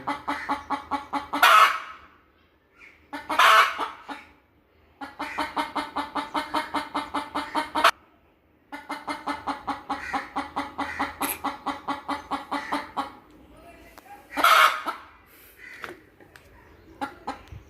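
Country hens clucking in repeated rhythmic bursts, with several sharper squawks between the runs, close and clear with no talk.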